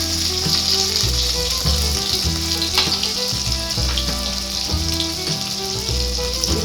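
Spices sizzle and fry steadily in hot oil with cumin paste, chili powder and turmeric, a dense close crackle with occasional stirring scrapes and no talk.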